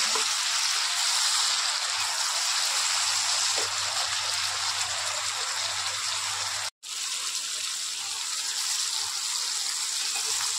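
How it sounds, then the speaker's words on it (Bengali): Continuous sizzling of flat beans frying in mustard oil in a pan, a steady hiss with a brief cut partway through. "শিমটা একটু হালকা ভাজা ভাজা হয়েছে"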